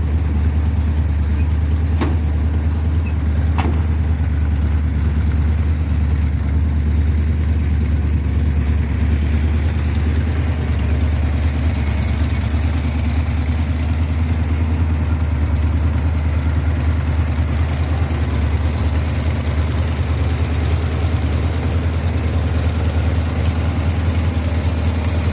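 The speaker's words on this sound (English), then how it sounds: "I don't know if you can hear me over the roar of the engine" A Dodge Ramcharger engine runs at a steady, deep idle close by, a continuous low rumble that holds evenly throughout with a couple of faint clicks early on.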